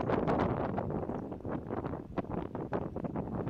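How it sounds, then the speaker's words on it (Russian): Very strong wind buffets the microphone in dense, gusty roaring bursts, close and steady throughout, with no voices. "Очень сильный ветер, волна"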